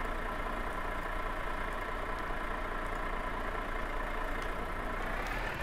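A truck engine in Universal Truck Simulator idles at a steady, even rumble throughout, with no clear start-up burst, heard alone at moderate level.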